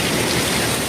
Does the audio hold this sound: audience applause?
no